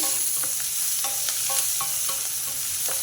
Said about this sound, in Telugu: కొంచెం ఉప్పేసా ఉల్లిపాయలు తొందరగా వేగుతాయి ఉల్లిపాయలు ఒకసారి కలుపుకుందామండి